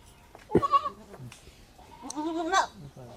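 A male goat bleats twice nearby at a goat farm, a short cry followed by a longer wavering one after a pause.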